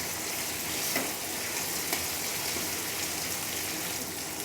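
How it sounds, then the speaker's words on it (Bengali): Green chillies and other ingredients for doi katla, a Bengali fish curry, stirred in hot oil make a dense, continuous sizzle that holds steady and close throughout, with no voices. "সমস্ত কিছু তেলের মধ্যে খুব ভালোভাবে নেড়ে চেড়ে মিশিয়ে নিচ্ছি।"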